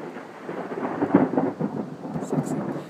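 Thunder rumbles low and heavy through steady rain during a storm, with rolling swells of loudness and a couple of brief higher sounds near the end, no voices present.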